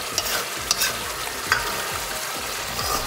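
Potato-starch-thickened sauce for a Japanese-style white mapo tofu boils hard in a pan, steady bubbling sizzle with sharp pops and spatters and a few stirring scrapes, close and alone.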